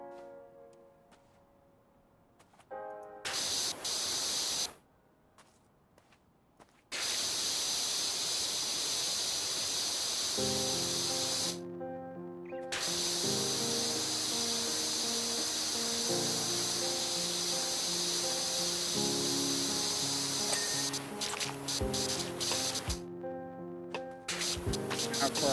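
Pressure washer spraying in Powerwash Simulator while cleaning the joists and underside of a huge treehouse deck, a steady loud hiss that cuts in and out in long bursts, with soft music playing underneath.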